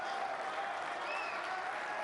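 Steady applause from a snooker crowd before the deciding frame of a major final, a dense, even patter of clapping at moderate distance with no voices over it.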